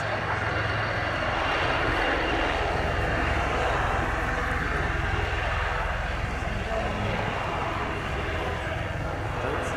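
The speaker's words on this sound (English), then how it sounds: "Something unique to helicopters, rearward formation flight." Loud, continuous helicopter engine roar with rotor rumble from the Black Cats display flying in rearward formation at Yeovilton air show, sustained at close range with no break.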